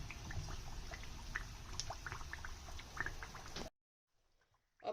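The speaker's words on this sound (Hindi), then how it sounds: "अब ये फ्राई हो चुकी है और इसका फ्लेम मैंने स्लो पे इस वजह से रखा था" Sindhi pakwan frying slowly in oil over a low flame, a dense steady bubbling crackle with faint pops that cuts off abruptly to near silence.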